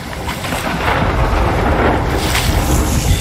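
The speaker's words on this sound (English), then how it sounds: "This storm is horrendous" Thunderstorm at sea in the pirate game Sea of Thieves: a dense, steady roar of wind, rain and churning water with low rumbling, loud and continuous, without talk.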